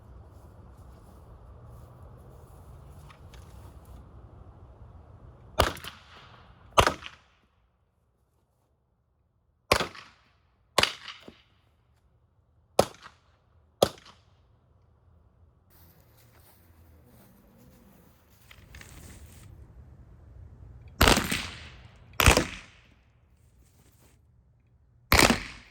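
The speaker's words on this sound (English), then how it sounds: "I'll be on the loose trying to hit all 3 while shooting fast and hopefully hit the targets" Grimburg self-defense airgun fired rapidly at targets outdoors: loud, sharp cracking shots in clusters, first two, then several spaced singles, and a final quick burst, with quiet gaps between.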